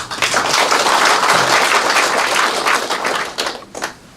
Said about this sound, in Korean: 힘찬 박수 다시 한번 부탁을 드리겠습니다